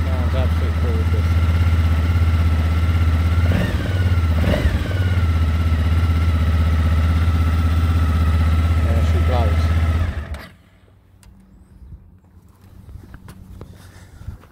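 A Suzuki DL1000 V-Strom engine runs just after a cold start, a loud steady idle with a deep low rumble and brief blips of revving, then cuts off abruptly near the end, leaving faint background noise.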